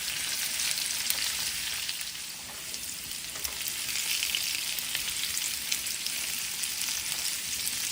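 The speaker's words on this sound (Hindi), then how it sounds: "अब इसमें हम ये सारे आलूओं को मिला देंगे और इसे भी हम थोड़ा फ्राई करेंगे।" Potatoes frying and sizzling in a pan, a steady close hiss with faint stirring scrapes and crackles throughout, no talking.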